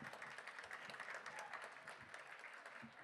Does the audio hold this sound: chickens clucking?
no